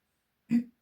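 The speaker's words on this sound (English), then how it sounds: "I'm sorry for clearing my throat" A single short, close throat clearing from a person with asthma, a brief gruff rasp in otherwise quiet surroundings.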